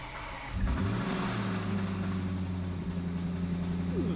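A rebuilt Range Rover SVR engine cranks and catches after a short quiet start, then idles and revs unevenly with a rough, droning hum that stays loud and close to the end.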